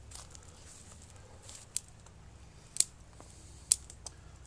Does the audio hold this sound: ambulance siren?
no